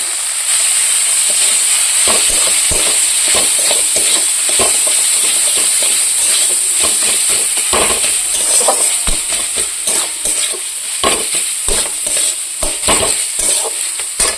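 Chicken curry with turmeric and chili powder sizzles and fries in a pan, with a constant bright hiss and frequent scraping stirs from a utensil, close up and unbroken.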